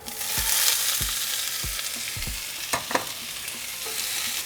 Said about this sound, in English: once oil is hot, we're going to add 3 cups of corn.